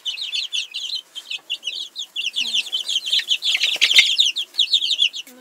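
A brood of young chicks on sawdust bedding keeps up a dense, continuous chorus of high peeps and soft clucks, close and lively for the whole stretch, with a few louder chirps standing out.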